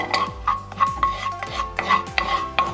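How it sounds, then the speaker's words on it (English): Garlic browning in a pan while a utensil stirs it: close, steady scraping strokes about twice a second, each with a brief metallic ring, over a low background with little audible sizzle and no voices. "So we're going to saute this just for about a minute."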